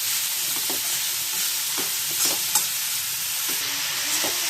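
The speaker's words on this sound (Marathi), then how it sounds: "मुळा आपल्याला परतून घ्यायचा आहे." Radish pieces stir-fried and roasted in a pan until red and crisp, for a quick radish chutney: a steady close sizzle with intermittent scraping stir strokes throughout.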